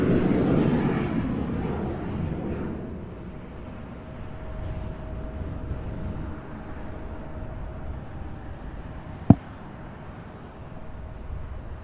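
A private jet at Cincinnati's CVG airport, a broad engine roar that is strongest at the start, then eases into a steady distant rumble with a faint whine, and a sharp click partway through.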